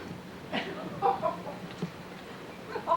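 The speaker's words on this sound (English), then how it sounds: "Told you it was a rooster." A nearby rooster clucks in short bursts, a few quick throaty calls spaced irregularly over soft background noise.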